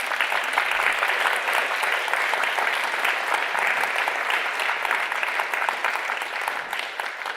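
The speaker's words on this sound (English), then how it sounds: "So let's give him a further round of applause" A forum audience gives a sustained round of applause, thick and even clapping from a large crowd that keeps going at a steady level before easing slightly at the end.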